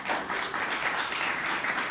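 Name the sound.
applause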